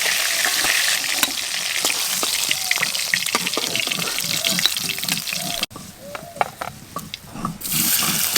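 Fish sizzles lightly in hot oil in a pan with a steady, dense crackle and scattered pops, briefly dropping in level before it swells again. The sound is close and fairly loud, with a voice talking faintly underneath.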